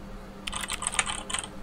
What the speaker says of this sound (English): That's just me smacking buttons on the keyboard.